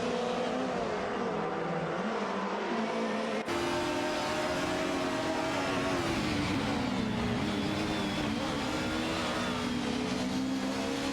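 Race cars in an AI-driven racing video game hold a continuous, loud engine drone with shifting pitch as they accelerate and ease off, the engine tone swapping abruptly partway through, with no one speaking.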